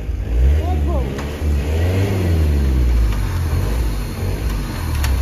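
A car engine, a vehicle loaded with firewood and stuck in a forest, revs hard and steadily close by, its pitch rising and falling, while people talk over it.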